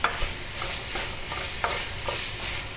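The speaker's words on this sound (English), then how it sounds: "I really want those beans to kind of blister" Green beans blistering in a hot pan, stirred in regular strokes: a steady sizzle runs throughout, broken by repeated scraping pushes of the spatula, close and moderately loud, with no voices.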